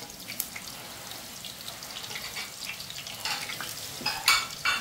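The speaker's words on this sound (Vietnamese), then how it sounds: "Và giờ là món đậu chiên." Tofu fries in a pan with a light, crackling sizzle and occasional stirring clinks, plus a few sharper pops and scrapes toward the end, with no talking over it.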